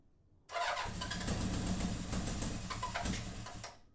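A rebuilt Honda CB750 motorcycle engine cranks on the starter and catches, settling into a loud, steady running roar close by that eases slightly near the end.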